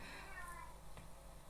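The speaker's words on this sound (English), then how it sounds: "that was my cat screaming in the background" A domestic cat yowls from the background, a faint, drawn-out meow over steady room noise.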